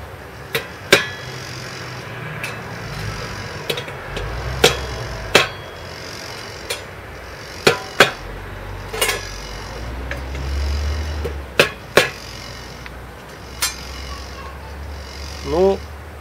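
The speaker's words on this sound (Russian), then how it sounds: "Я сразу перехожу к пробиванию оцинкованного металла. И буду делать это молотком." A hammer drives a Buck Ghost Rider folding knife through galvanized sheet metal, giving sharp, loud metallic strikes at irregular intervals with quieter gaps between them and low rumbling handling noise underneath.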